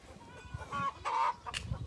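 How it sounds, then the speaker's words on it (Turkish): Chickens on a highland goat farm cluck in short, close bursts, with a couple of louder squawk-like calls in the middle, heard alone without talk. "Bende de var 40 tavuk."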